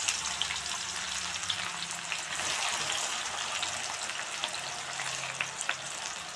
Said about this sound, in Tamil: ஒரு கடாயில் எண்ணெய் எடுத்துட்டோம் எண்ணெய் நல்லா காஞ்சிடுச்சு இப்போ நம்ம கட் பண்ணி வச்சுருந்த பாவக்காய் போட்டுப்போம்